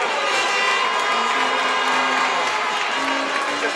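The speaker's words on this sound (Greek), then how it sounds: "Υποδεχόμαστε με ένα θερμό χειροκρότημα" A crowd at a football final between Apollon Smyrnis and AO Chaidari gives loud, sustained applause and cheering, a dense continuous roar with some whistles and tonal noise mixed in.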